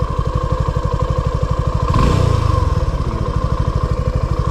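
A motorcycle engine idles close by with a steady, throbbing putter that swells briefly louder midway before settling again.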